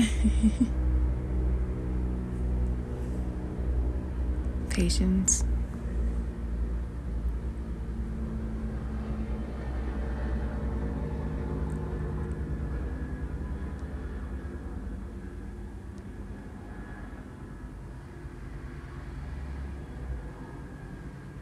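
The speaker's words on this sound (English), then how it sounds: "there is a plane going by overhead" An airplane passes overhead as a continuous low, rumbling drone that slowly fades, with a single word spoken briefly near the start.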